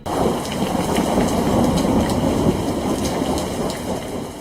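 Heavy rain pours steadily with a low rumble of thunder underneath, a loud, dense wash of sound that stays constant throughout.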